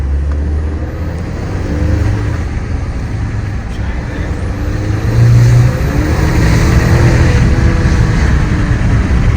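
A 2022 Chevy Silverado pickup engine drones steadily close by, swelling louder as it accelerates partway through, with road noise underneath, at night.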